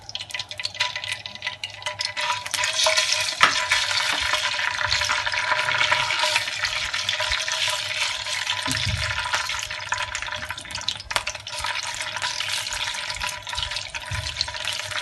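Ginger garlic paste fries in about half a cup of hot oil, a steady close sizzle and crackle with occasional stirring, continuous and without voices.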